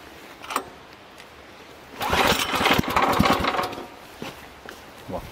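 Small engine on a new machine being started with the choke on: a quiet pull, then the motor catches and runs roughly at a raspy, uneven idle for about two seconds before dying, followed by faint handling clicks nearby.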